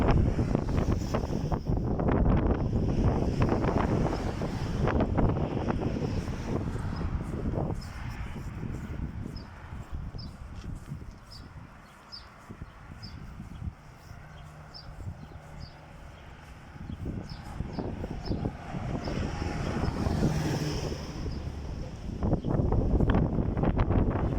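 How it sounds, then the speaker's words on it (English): Strong wind buffets the microphone outdoors in Medjugorje in heavy, continuous low rumbling gusts, with a brief lull in the middle before roaring up again. "Hear the wind, it's enormous windy."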